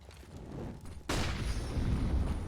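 A grenade detonates in a competitive shooter match, a sudden loud boom about a second in that leaves a rumbling, ringing tail over quiet game ambience.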